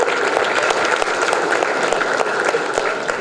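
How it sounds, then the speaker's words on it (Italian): Loud, steady applause from a sizable crowd, dense clapping that continues evenly throughout. "Accogliamo Valerio Landi con un applauso."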